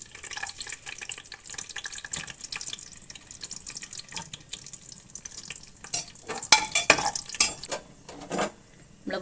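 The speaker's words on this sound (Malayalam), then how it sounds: "ഇതിലേക്ക് ഞാൻ ഈ അണ്ടിപ്പരിപ്പ് ഇട്ട് കൊടുക്കുന്നുണ്ട്" Cashew nuts dropped into a pan and frying for ghee rice, light crackling sizzle with bursts of stirring and clattering against the pan, louder toward the end.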